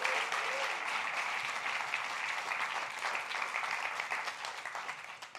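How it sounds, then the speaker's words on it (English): Audience applause for the Try Swift NYC conference team fills a hall, a dense steady clapping from a large crowd that holds level throughout and tapers slightly at the end. "Let's give an applause for Try Swift NYC."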